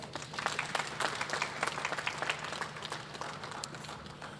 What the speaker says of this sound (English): Let's give Your Excellency the President another hand clap.